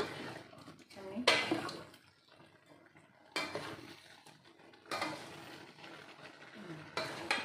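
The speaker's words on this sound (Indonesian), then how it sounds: "Kita kacau." Fried tempeh sambal is stirred in a pan in repeated bursts of scraping and clattering. Each burst is set apart by a quieter sizzle, and it is close and moderately loud.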